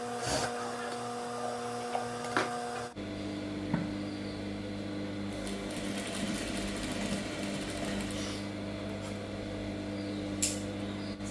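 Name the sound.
sewing machine stitching blouse lining fabric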